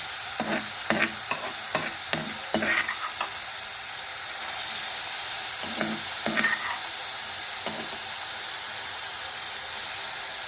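Crushed green chilies and garlic fry with cumin in hot oil, giving a steady loud sizzle with several sharp stirring scrapes and clinks, mostly in the first few seconds.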